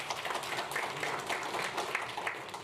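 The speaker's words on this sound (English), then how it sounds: "this applause is really well deserved" Audience applause at a conference session on rebuilding Ukraine, a soft, steady patter of many hands clapping at a distance, continuous and even throughout with no voices standing out.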